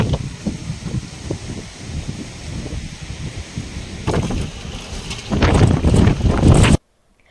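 A strong wind and rain storm in Gujarat: loud gusts roar and buffet close by with rustling bursts, swelling heavier toward the end before cutting off abruptly.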